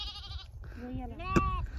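Sheep bleating close by, two or three drawn-out wavering calls in quick succession, over a low rumble of background noise and voices.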